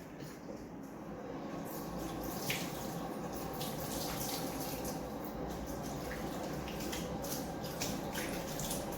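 Water runs steadily from a tap, rinsing a styling product out of fine, thin, dry-ended hair at a salon sink. The flow is continuous and moderately loud, with no talk over it.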